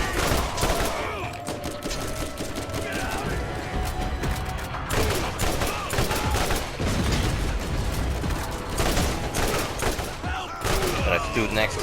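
Gunfire in the Borderlands video game, loud dense bursts of rapid shots with mechanical clatter, continuous across the stretch with brief lulls.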